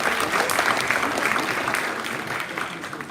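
Sustained applause from an audience in a school auditorium at a Founder's Day performance, many hands clapping densely and evenly at close range, holding steady for the whole stretch before easing slightly at the end.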